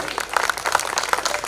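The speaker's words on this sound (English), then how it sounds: "A big round of applause for Prabhat Chauhan" Audience at a pageant and fashion show applauds with scattered, moderately loud clapping, individual hand claps distinct in an uneven burst.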